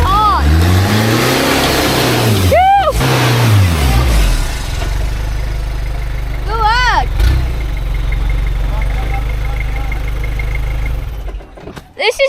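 An 80 series 4x4 with a 3.0 turbo diesel and leaf springs revs hard while rock crawling: loud, close engine surges climb and fall several times, with voices in the background.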